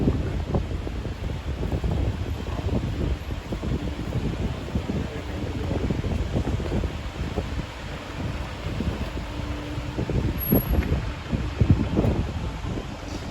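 Wind roars and buffets against the microphone in a constant gusty rush for the whole stretch, with no voices, in a small Indian coastal village.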